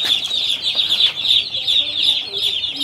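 A shrill, unbroken chorus of peeping rises from a crowd of young chickens raised on a poultry farm, steady and close, with occasional brief rustles beneath.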